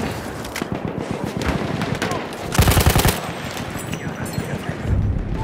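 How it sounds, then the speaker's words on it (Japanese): Rapid automatic gunfire and scattered shots from a Battlefield 1 multiplayer match, with a louder close burst in the middle over continuous battlefield noise. "敵の看護兵が撃ったぞ。"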